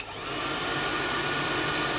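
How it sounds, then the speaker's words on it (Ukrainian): A hair dryer blasts at full power, a loud, steady whooshing roar that never lets up. "одразу на максимальну фен."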